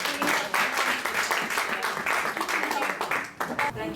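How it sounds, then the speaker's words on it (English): An audience at an interfaith quiz night applauds the winners, a dense, steady wash of clapping that fills the room for about four seconds and thins slightly toward the end. "let's give them all a big clap"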